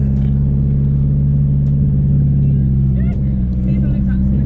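A protuned 2004 Subaru WRX STI held in first gear rumbles loud and steady throughout, its low engine drone continuous, with a passenger talking over it inside the cabin.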